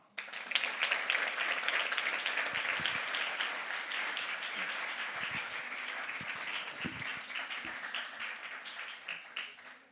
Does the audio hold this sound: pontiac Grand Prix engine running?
no